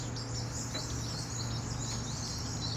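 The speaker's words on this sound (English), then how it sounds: "I'm really hoping that you can hear me out here over the sound of the birds" Birds sing and chirp outdoors in a continuous, fairly distant chorus of high twittering calls over a steady low background hum, with no talking.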